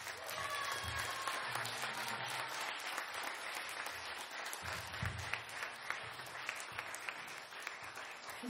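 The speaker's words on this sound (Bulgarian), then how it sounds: "Още веднъж аплодисменти за групата." Audience applause after a concert in Pernik, Bulgaria: sustained crowd clapping filling the hall, with low rumbling room noise underneath and a few louder claps near the end.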